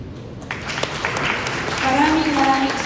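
An audience at a lecture on historical maps claims applauds after the speaker finishes, a steady wash of clapping that swells slightly, with a voice talking over it.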